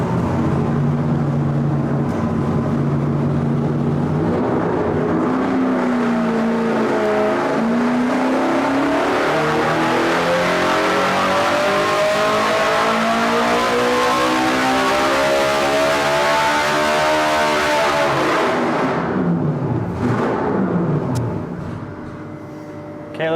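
Full-power engine run on a dyno at an engine performance expo, pushed past peak power: loud sustained roar with a steadily climbing pitch for about eighteen seconds, then an abrupt drop as the throttle closes and the engine winds down.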